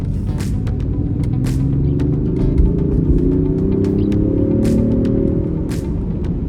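A 2023 Range Rover Sport engine revs up steadily in dynamic mode, its rising drone climbing in pitch over several seconds, loud and close with some rattling in the background.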